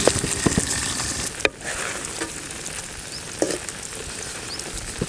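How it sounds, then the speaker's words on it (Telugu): An egg frying in oil in a pan for fried rice gives a soft, steady sizzle with scattered pops and a couple of sharper clinks, close and fairly quiet. "ఒక రెండు మూడు స్పూన్లు ఆయిల్ వేసి ఆయిల్లో గుడ్డు పలగొట్టినట్టు వేసినాం కదండి"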